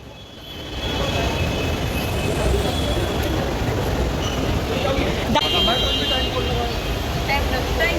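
Metro train at a Delhi station platform, a loud continuous rumble of wheels and motors with faint squeals and a brief tone, starting quietly then steady throughout, with people talking over it.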